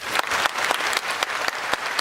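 An audience at a network marketing meeting claps loudly and densely, a thick, continuous patter of many hands with a few sharper individual claps standing out, lasting about two seconds with no speech.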